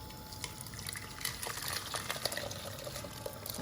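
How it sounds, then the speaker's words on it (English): Reduced sauce poured from a pan into a saucepan while cooking a Christmas dinner: a continuous liquid splash and trickle with small clinks and taps, steady and close throughout. "And now I'm going to pour this into a saucepan."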